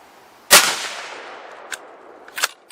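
A Remington 700 in .30-06 firing handloaded rounds at a 100-yard range gives one loud, sharp shot with a long decaying echo, followed by fainter distant cracks.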